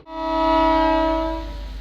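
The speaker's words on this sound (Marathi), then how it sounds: "कवट्या मंकाळ रेल्वे स्टेशनवरून आता डिपार्चर विसल झालेलं आहे" A train's departure whistle at Kavathe Mahankal railway station sounds as one loud, steady horn blast lasting nearly two seconds, standing alone over a low rumble.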